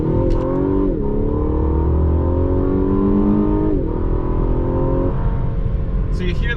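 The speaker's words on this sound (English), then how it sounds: "When I let go of the gas, the fake engine sound goes away, but the real engine sound is still there" A 2021 Lexus LS 500 F Sport pipes an artificial engine sound into the cabin under hard acceleration: a loud, continuous synthetic growl that climbs in pitch, drops back, then climbs again, and fills the whole stretch.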